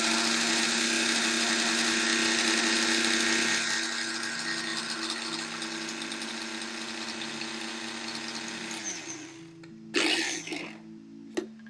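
An electric grinder whirs loudly as it grinds edible glitter for cake decorating, a steady high motor drone that drops in pitch as it runs, then stops and is followed by a couple of brief clatters.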